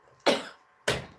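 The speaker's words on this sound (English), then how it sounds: "That's why I'm coughing." Two sharp, loud coughs from one person, evenly spaced about half a second apart, close to the listener with a quiet pause between them.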